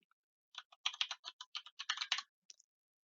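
Quick typing on a computer keyboard, a short burst of about a dozen crisp, close key clicks in an uneven rhythm, starting and ending in near silence.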